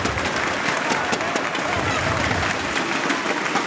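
Crowd at a bowling tournament stepladder final cheering and applauding, a dense, steady wash of clapping and voices filling the whole moment at close range.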